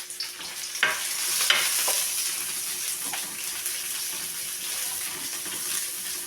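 Garlic and onion sautéing in a pan for sinigang na liempo, a soft, steady sizzle with a few faint clinks of a utensil, fairly quiet and close.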